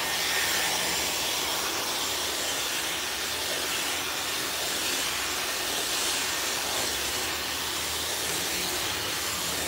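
A Dyson blow dryer fitted with a comb attachment, used on a client's relaxed hair, runs with a constant loud airy hiss that stays steady and unbroken for the whole stretch, with no talking over it.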